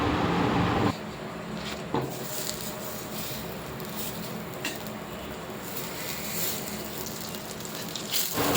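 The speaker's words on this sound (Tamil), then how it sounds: "அதுக்கு முன்னாடி நம்ம ஒரு கடாயில் 2 ஸ்பூன் அளவு பட்டர் சேர்த்துக்கலாம்" Steady crackling sizzle of two spoons of butter melting in a kadai, close and continuous, with a few faint clinks in the background.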